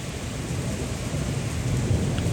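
Heavy rain pours in a dense, steady roar with gusting wind and low rumbling, constant and close, with no voices, during a storm in Dubai.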